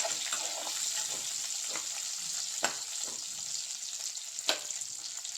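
Onions fry in a pan, giving a soft, steady sizzle and hiss with occasional faint clicks of stirring, fairly quiet and uninterrupted throughout.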